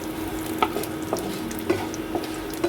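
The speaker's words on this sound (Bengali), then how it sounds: "এটা একটু ভেজে নেবো সুন্দর গন্ধ আসা অবধি, আর একটু জিরে দিয়ে দেবো ফোড়নে" Cardamom, cinnamon and cumin fry in oil as a tempering for vegetable dal, a steady low sizzle broken by a few light spoon taps on the pan.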